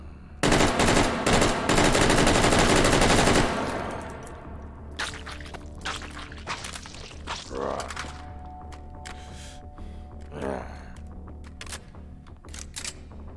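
Rapid automatic gunfire blasts loudly for about three seconds in the VR shooter H3VR, then cuts off, and scattered metallic clicks, clatters and a few lighter shots follow more quietly.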